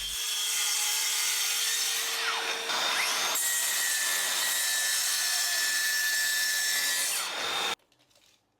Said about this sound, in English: I get out the track saw and get the bits cut to size